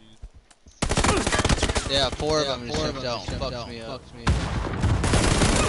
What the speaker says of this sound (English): they're just shredding with some SMG